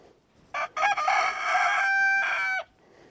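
A rooster crows loudly and clearly near a chicken coop as the chickens are let out, one drawn-out cock-a-doodle-doo broken into several bursts over faint background noise.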